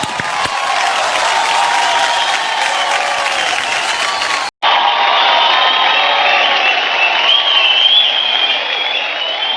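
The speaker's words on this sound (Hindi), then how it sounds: "शाहिद के लिए एक बार जोरदार तालियां हो जाए" Award-show audience at the New Star Guild Awards 2020 bursts into sustained, loud applause with some cheering, steady for several seconds, a brief cut midway before the clapping resumes.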